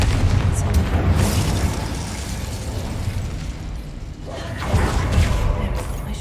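Confringo and Incendio spell effects in Hogwarts Legacy: a loud run of fiery bursts and booms, rumbling and crackling almost continuously, with a fresh surge of blasts near the end.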